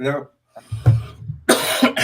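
A person coughs a few times, rough and close, between bits of spoken words.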